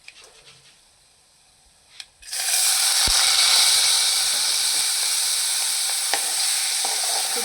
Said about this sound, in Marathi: तुपावर असा व्यवस्थित तांदूळ भाजला ना की आपल्या भाताला सुगंध खूप छान येतो.